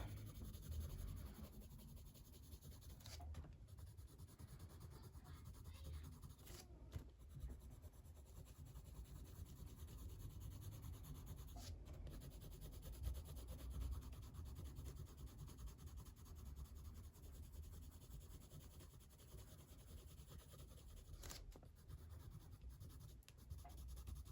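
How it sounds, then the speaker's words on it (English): A blender pencil rubbing across a coloured pencil drawing on paper, a soft, continuous close-up scratching and rubbing with short pauses, faint and alone. "gonna get my blender pencil now"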